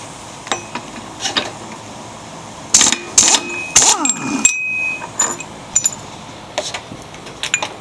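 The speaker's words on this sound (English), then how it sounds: "I'm going to use my pneumatic gun" A pneumatic impact gun works the 15/16 flywheel nut on a Troy-Bilt engine, firing three loud, close rattling bursts midway amid scattered metallic clinks and shop clatter.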